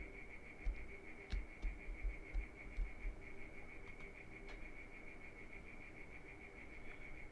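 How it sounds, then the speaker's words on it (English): Crickets chirp in a continuous, high, steady trill that holds throughout at a moderate level, with soft low thumps and a few faint clicks in the first half. "those crickets are loud"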